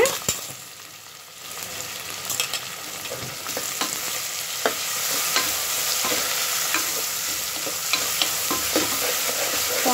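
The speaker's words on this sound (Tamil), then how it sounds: "ஆனியன்ஸ் நல்லா ஃப்ரை ஆகட்டும்" Onions frying with rock salt in a pan for chicken biryani, a steady close sizzle throughout with scattered stirring scrapes and clicks, no talking.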